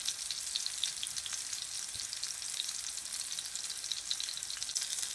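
Breadfruit slices fry in hot oil in a pan, giving a steady, even sizzle with fine crackling throughout, close and moderately quiet, with no voices.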